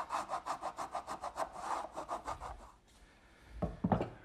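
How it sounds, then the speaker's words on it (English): A wood rasp scrapes inside a hardwood mortise in rapid, rhythmic back-and-forth strokes, close and steady, trailing off into a few louder bumps and knocks at the end. "now a little bit of work with a wood rasp, and that'll finish up the inside of this mortise"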